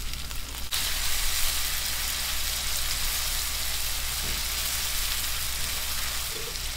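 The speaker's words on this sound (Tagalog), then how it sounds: "Gisa na po tayo ng bawang." Garlic, onion and tomato sauté in a hot pan, a steady, close, bright sizzle running continuously throughout with no voices.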